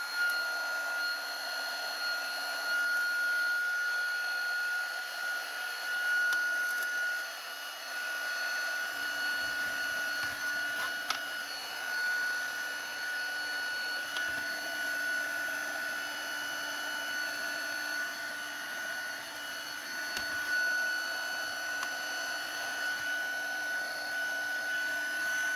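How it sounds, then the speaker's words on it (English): A heat gun blows a continuous whirring, hair-dryer-like stream of hot air over candle vessels, with a steady tonal whine running without a break throughout. "so let's heat up these vessels."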